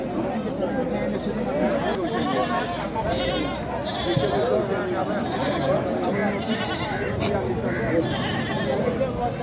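Goats bleat repeatedly at a busy livestock market, several animals calling over steady crowd chatter and nearby talking voices.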